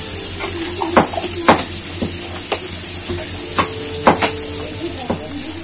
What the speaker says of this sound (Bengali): এখন পেঁয়াজটা একটু ভাজা ভাজা করে নিতে হবে।